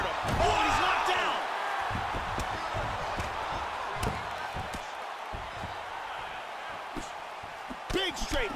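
Punches and body shots thud repeatedly in an EA Sports UFC 2 fight, a video game, with sharp impacts landing over a steady arena crowd roar and commentary voices talking throughout.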